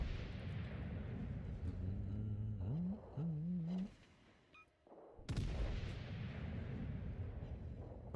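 Ship guns fire in a naval video game, sending out deep rolling booms that swell into a sustained roar, ease off, then erupt again loudly near the end.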